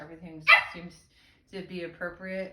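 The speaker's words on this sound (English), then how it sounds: "Sorry, that's the dog." A house dog gives a single sharp bark in the background while someone speaks calmly nearby, her talk continuing around it.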